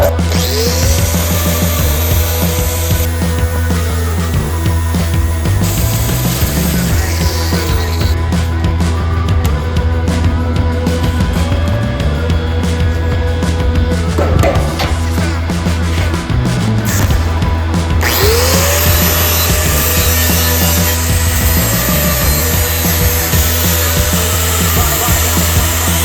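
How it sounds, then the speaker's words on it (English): Power tool grinding a bevel onto a metal piece as weld prep for a chain link gate, a loud steady whine with pitch dips under load and short gaps, running continuously throughout. "Here I'm going to prep my piece that we're going to weld on by beveling"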